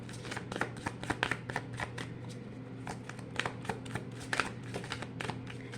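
Tarot cards shuffled close up in a steady run of crisp riffling flutters and soft slaps, repeating throughout with brief gaps, alone with no talking.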